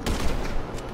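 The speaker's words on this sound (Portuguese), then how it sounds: "Agora aqui, aqui vamos atirar já" A burst of gunfire in GTA 5 Online, several rapid sharp shots packed into a single second, loud and close with no talk over it.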